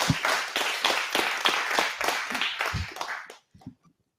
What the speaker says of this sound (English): Please give a clap praise for Miss McGee.